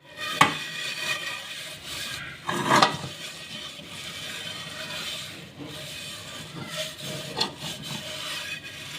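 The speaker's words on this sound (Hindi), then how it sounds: "और अब हम इसको अच्छी तरह घिस घिस के मांजते हैं और देखते हैं कितनी देर में साफ़ होता है।" A burnt milk pot being scrubbed clean by hand, giving a steady rough rubbing and scraping with a few louder knocks of metal, close and alone with no talk.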